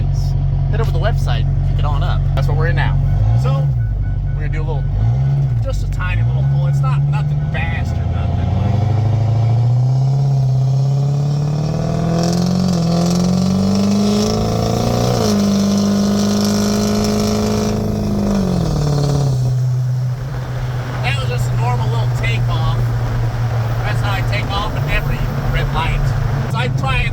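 A Ford 6.0 diesel pickup without a VGT turbo, its low engine rumbling at idle, then pulling hard and rising in pitch through a run before backing off, with someone talking over it throughout.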